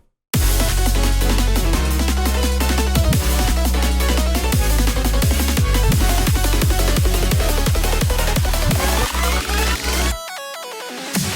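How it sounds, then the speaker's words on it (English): An electronic hitech build-up drum section layers a main loop, a garage percussion loop, kicks with small cymbal crashes and reverse kicks. It is dense, loud and driving, with rapid repeated hits, and it breaks to a swelling noise near the end. "the build-up drums, which consists of the main build-up loop, the garage loop from earlier for additional percussion, kicks layered with small cymbal crashes"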